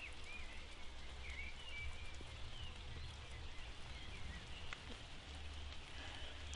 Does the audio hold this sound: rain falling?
yes